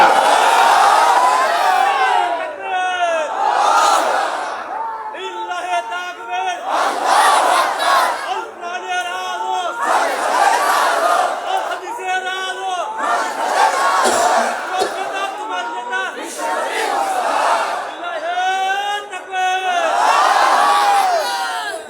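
A large crowd shouts takbir in unison at an outdoor Islamic religious sermon in Bangladesh, with loud, repeated bursts of massed voices in a steady chanting rhythm running throughout.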